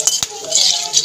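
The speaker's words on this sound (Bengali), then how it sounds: "নেড়ে চেড়ে ভেজে নেব ফোড়নটাকে।" Whole spices (cloves, cardamom, cinnamon, a dried chilli and bay leaf) are stirred in hot oil left from frying fish, producing a brief burst of sizzle punctuated by close metal utensil clinks against the pan.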